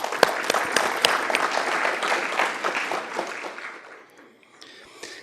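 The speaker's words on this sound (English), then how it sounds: "I think you deserve a round of applause, and I'd like to congratulate you" Applause from an audience at an awards ceremony, a dense steady patter of many hands with a few sharper claps, gradually thinning and fading toward the end.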